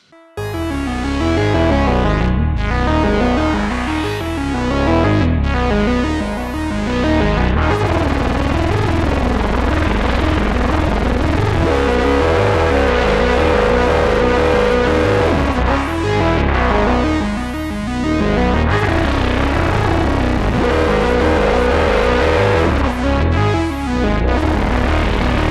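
Synthesizer sequence run through an overdrive pedal with reverb added, a continuous distorted, droning pattern with rhythmic swells and sweeps, loud and steady throughout with no talking.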